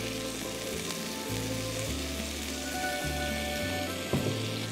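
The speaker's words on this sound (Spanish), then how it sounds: "En un sartén con 4 cucharadas de aceite de olivo extra virgen, poner los 2 dientes de ajos, los 2 filetes de anchoas para que se sueltan" Garlic cloves and anchovy fillets frying in a pan of extra virgin olive oil, a steady close sizzle and crackle with faint occasional stirring, no voices.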